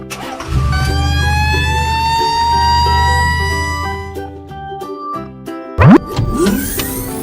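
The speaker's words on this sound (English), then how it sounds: "Red fire truck." A red toy fire truck wails with a rising-and-falling electronic siren over a steady mechanical hum, loud and close, ending with a quick upward swoop.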